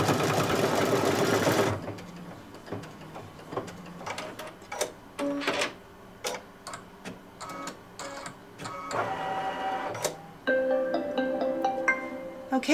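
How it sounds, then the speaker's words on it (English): An embroidery machine sews the final closure stitch on an in-the-hoop quilted stocking, starting with a dense, steady run of rapid stitching and then continuing in short, intermittent bursts of mechanical whirring and clicking, up close. "it will do a final closure stitch and it'll leave you a little opening to turn down here at the bottom"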